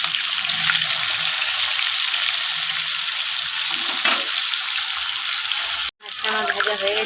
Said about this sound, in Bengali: মাছটা এক সাইড হয়ে গেছে, আমি এখন দুই সাইড ভেজে নেবো।